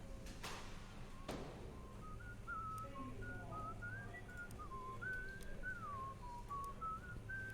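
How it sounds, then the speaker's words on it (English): A clear, melodic whistled tune from the video game Shadows over Loathing, with sliding pitches rising and falling in short phrases, preceded by a couple of soft thuds over a quiet background. "Teach me to whistle."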